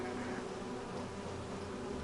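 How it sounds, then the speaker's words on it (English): Steady, dense buzzing of bees from a hive area in the video game Hollow Knight, a continuous close insect drone that fills the whole moment without pause and with no voices over it. "Let's find where the bees are."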